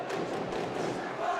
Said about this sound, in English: Crowd getting nice and loud here, banging the drums, screaming his name.